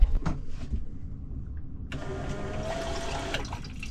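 A water pump aboard a sailboat switches on with a sudden whirring hum after a few clicks and knocks, then runs steadily and close by to the end.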